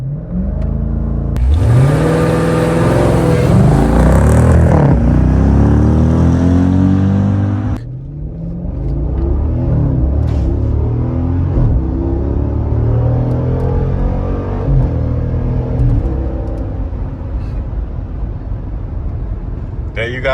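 A 2017 Jeep Grand Cherokee SRT launches in launch mode at full throttle: a loud, close engine roar climbs hard, drops briefly at a gear change, then keeps pulling with a deep, steady rumble.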